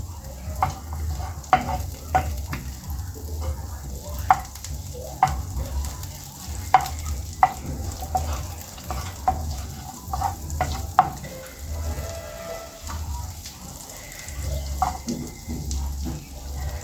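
Something melting in a pan sizzles gently and steadily, close by, with scattered sharp clicks and scrapes of stirring and a low underlying rumble.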